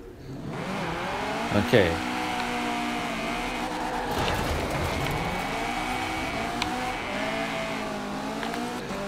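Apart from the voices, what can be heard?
KTM X-Bow GT4 car launching in video game Forza Horizon 4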